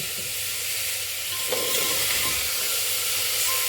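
Tomatoes frying in a pan for a lobia (black-eyed pea) curry give a steady, close hiss of sizzling with a faint scrape of stirring partway through, no voices.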